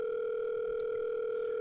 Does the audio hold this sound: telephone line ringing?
yes